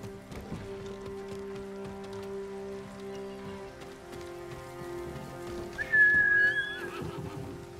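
A horse whinnies in Ghost of Tsushima over steady rain and game music, one rising neigh near the end of a mostly ambient stretch.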